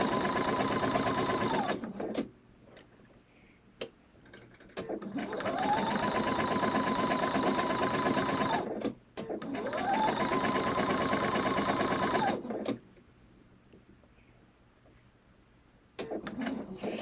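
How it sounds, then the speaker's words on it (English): A sewing machine stitches a long seam in three sustained runs, each several seconds long, with steady loud whirring that ramps up at the start and stops abruptly, quiet pauses between. "it's probably boring watching me sew this long seam"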